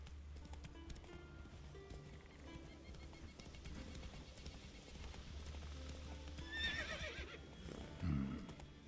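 Roach the horse's hooves clip-clop steadily in The Witcher 3 game, with a whinny or neigh near the end over faint background game music.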